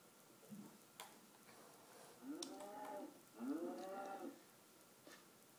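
Two cow moos in the Minecraft video game on PS3, each about a second long with clear harmonic lowing, separated by a short gap, plus a few faint ticks and clicks in an otherwise quiet scene.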